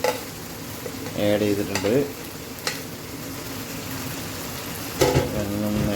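Chicken with garlic, ginger and green chili paste is stirred in a hot pan, giving a continuous sizzle with scraping strokes and occasional utensil knocks while a person talks over it.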